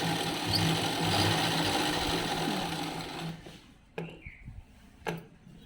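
A sewing machine stitches a fall onto a saree, running in a steady close whir for about three seconds, then stopping, followed by a couple of sharp clicks and handling knocks.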